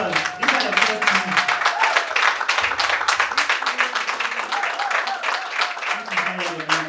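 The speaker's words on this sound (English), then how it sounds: "Oh, a round of applause." An audience claps at a street MBA pitching and demonstration day in Africa, a dense, fairly loud patter of many hands that carries on throughout while voices talk over it.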